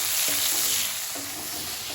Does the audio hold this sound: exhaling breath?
no